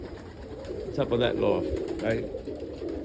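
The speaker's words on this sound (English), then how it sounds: "all these young birds I got out here" Young roller pigeons coo softly around a loft, with low, repeated burbling calls that rise and fall close by while someone talks over them.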